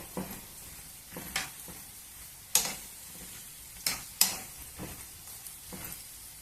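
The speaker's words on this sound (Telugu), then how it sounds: "కొంచెం ఆ పక్కకి ఈ పక్కకి ఇట్లా తిప్పుకుంటా నిదానంగా కలబెట్టుకొని వేయించుకోండి" Raw banana pieces are stirred and fried in a pan: a few scattered scrapes and knocks of the spoon, some sharper than others, over a faint sizzle, with no one talking.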